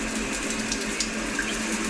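Cold water runs steadily from a tap at a nature campsite in the Philippines, a continuous close hiss and splash with no pauses and no voices.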